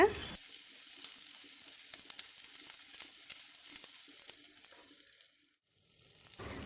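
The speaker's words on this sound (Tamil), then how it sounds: "வெங்காயம் நல்லா கலர் சேஞ்ச் ஆகிற அளவுக்கு நல்லா வதக்கிக்கலாங்க" Shallots, garlic and curry leaves sauté in hot oil in a pan for okra kara kuzhambu, giving a continuous, close sizzle with light scraping ticks from stirring and a brief dip near the end.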